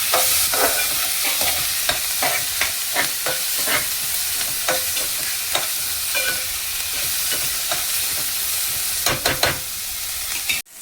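Tomatoes fry in a pan for a moringa leaf bhaji, a dense steady sizzle broken by frequent rhythmic spatula scrapes and clicks, close and loud, with no one talking.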